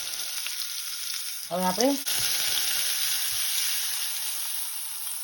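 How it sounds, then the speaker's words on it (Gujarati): Ginger and roasted carom seeds hit hot oil in a pot for a Gujarati vegetable tempering, giving a steady close sizzle with a brief louder burst of stirring or scraping; a voice speaks briefly over it. "શેકેલો અજમો મૂકવાનો છે."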